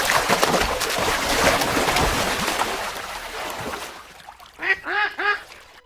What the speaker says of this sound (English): Golden-eye ducks.